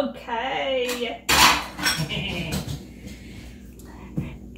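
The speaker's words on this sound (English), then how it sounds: "he's doing dishes" Dishes being washed at a sink: pots clatter and cutlery clinks in loud bursts, with running water and soft voices talking nearby.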